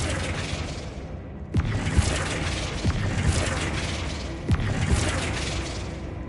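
Flipendo spell effects in the Hogwarts Legacy video game: two sharp, booming bursts a few seconds apart, each followed by a rumbling tail, set against a loud, continuous game background.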